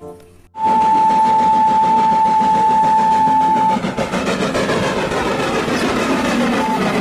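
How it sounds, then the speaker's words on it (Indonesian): A Thomas the Tank Engine toy train runs with a steady, loud mechanical whirring and clatter, and a sustained high whistle-like tone rings through the first few seconds. "Ini adalah kereta api Thomas."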